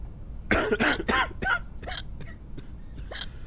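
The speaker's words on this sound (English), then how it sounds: "He's also got a cough." A string of harsh, raspy coughs from a sick character in the video game Quarantine Zone: The Last Check, loud at first and then trailing into weaker, breathier hacks.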